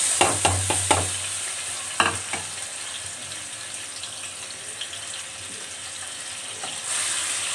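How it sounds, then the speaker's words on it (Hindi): Garlic ginger paste sizzles in hot oil for a keema curry, with a steady crackling fry and a few sharp stirring clatters near the start and around the two-second mark. "तो अब हम इसमें लहसुन अदरक का पेस्ट ऐड कर देते हैं।"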